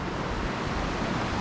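A Colorado mountain river rushes steadily nearby, a dense broadband wash of flowing water with slight wind noise, constant and unbroken throughout.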